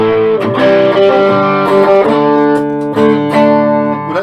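Yamaha Pacifica 611H electric guitar with a single-coil pickup played through distortion, a loud sustained run of overdriven chords and notes with strong harmonics, changing every second or so, alone with no talk.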